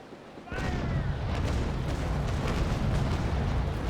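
Ship cannons fire in the Naval Action sea battle, opening with a sudden heavy boom and followed by a sustained roar of further shots and rumbling blasts.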